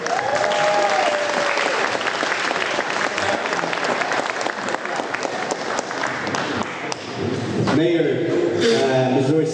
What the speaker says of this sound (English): I'd like to invite Denny for one more hand of applause for Denny Nguyen.